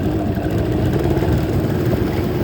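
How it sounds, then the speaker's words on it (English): More throttle goes to the motor on a modified Intex Excursion 5 inflatable boat, and it holds a loud, steady rough roar, close and uninterrupted, mixed with broadband wind and water noise. "Now a little bit more of throttle."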